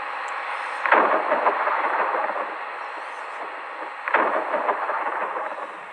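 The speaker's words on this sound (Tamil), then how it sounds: "இந்த மழை விடவே விடாது" Heavy rain pours steadily and loudly, with two deep rumbling thunder bursts rising out of the downpour, near and powerful.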